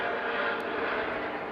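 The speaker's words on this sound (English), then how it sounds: "Helicopter flying." Helicopter flying overhead above a town: a steady, broad engine and rotor rumble, fairly loud and unbroken, with no voices.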